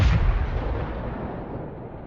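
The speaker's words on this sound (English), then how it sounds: "Ukrainian artillery makes a massive attack on the stopped Russian column. And this looks like a HIMARS strike." An artillery strike hits a stopped Russian tank column, a single heavy blast that rolls into a long, loud, low rumble and fades slowly without any voices.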